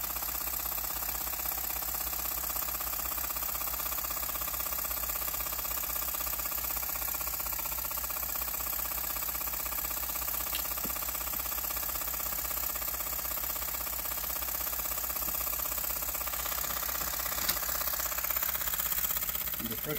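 A twin-cylinder horizontal mill-type steam/air engine with a flyball governor runs steadily at high speed, a continuous even mechanical hum and rapid beat heard close, with brief faint talk.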